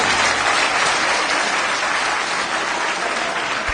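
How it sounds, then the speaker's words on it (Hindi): A dense crowd at a JDU political rally for women's empowerment claps loudly and continuously for Umesh Singh Kushwaha, a sustained wash of applause with no voices. "हमारे युवा हृदय सम्राट उमेश सिंह कुशवाहा जी के लिए जोरदार ताली बजाइएगा।"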